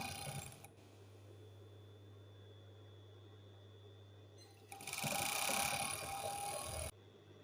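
An overlocker stitches stretchy cotton lycra, a low mechanical hum swelling into a louder, busier whirr for about two seconds before stopping abruptly.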